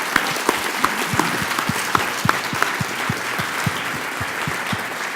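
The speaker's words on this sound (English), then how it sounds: "can I ask you guys to give a huge round of applause to the speakers who've gone and will go" Sustained audience applause at a coaching fireside chat, honouring the speakers: dense, even clapping from a seated crowd, steady and moderately loud, with sharper individual claps standing out, no speech over it.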